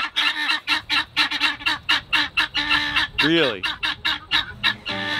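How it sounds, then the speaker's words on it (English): A flock of chickens calling in rapid, loud repeated squawks close by, with one drawn-out cry midway and a brief spoken word among them. "I have too many chickens out here"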